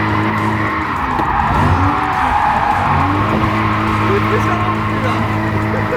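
Tires skid and squeal continuously as a car drifts at a motorsport drift event, with the engine droning loudly and steadily underneath throughout, close to the listener.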